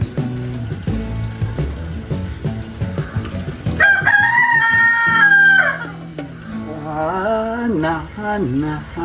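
Chickens cluck in a steady run before a rooster lets out a loud, close crow midway, followed by more drawn-out calls, with no talk over them.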